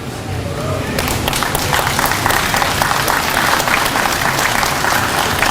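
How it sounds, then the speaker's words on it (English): Loud, sustained applause from a large crowd at a ribbon cutting and open house, dense clapping that continues steadily without a break. "That's probably the longest applause they've ever had."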